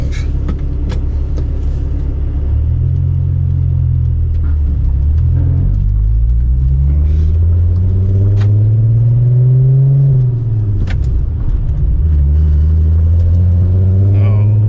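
A VW GTI with drivability problems drives along, its loud engine droning and rising and falling in pitch with uneven, rough running, heard from inside the cabin with a voice talking now and then.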